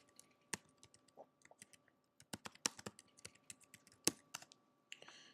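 Computer keyboard keys are typed in bursts of sharp clicks for a PubMed search on lower respiratory infections, close and fairly quiet, with short pauses between runs of keystrokes and no talking.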